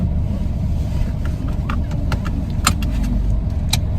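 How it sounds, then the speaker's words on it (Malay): Cars passing along a street in Ipoh, a steady low road rumble with a few sharp clicks and rattles on top, no talking. "Macam banyak kereta je."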